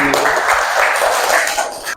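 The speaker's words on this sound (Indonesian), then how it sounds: "Beri tepuk tangan lagi." Classroom audience at a network measuring tools lesson claps together, a loud, brief burst of hand clapping that fades out at the end, with no talking over it.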